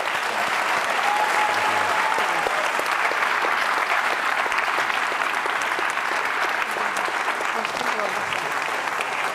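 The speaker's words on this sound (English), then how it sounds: "let's give a round of applause" An audience at an evening panel event breaks into thick, sustained applause, a loud continuous roar of many hands clapping that stays level throughout.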